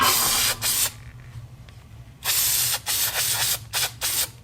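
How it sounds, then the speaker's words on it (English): Bursts of aerosol air filter oil spraying onto a Yamaha Kodiak ATV's air filter, short hissing blasts repeated in irregular pulses, close and loud with brief pauses between them. "Now we're going to spray it on the inside."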